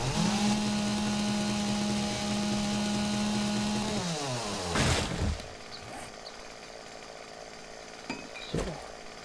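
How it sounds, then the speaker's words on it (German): Chainsaw in the survival game Seven Days to Die revving loudly and steadily, then cutting off sharply near five seconds, followed by quieter scattered game clatter and a couple of brief thuds. "Ich glaube, das reicht erstmal mit Kettensägen-Action."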